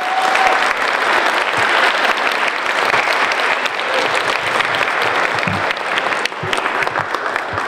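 A round of applause for the awardees at the Beckman Institute's Vision & Spirit Award presentation: a full, sustained clapping from a crowd, steady and loud throughout, with faint voices mixed in.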